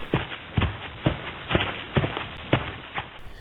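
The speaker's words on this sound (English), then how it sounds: "Toy Chica will approach your office from cam 7 to cam 4 to cam 1 and then through your left vent, making footstep noises each time she moves." Toy Chica's footsteps sound as she creeps through the left vent in the FNAF Help Wanted VR game: a regular run of soft, muffled thumps, about two per second, steady and fairly close.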